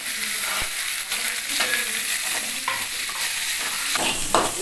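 Onions and chillies frying in a pan with cumin and mustard seeds for a greens dish, a steady close sizzle with stirring scrapes and clinks running throughout.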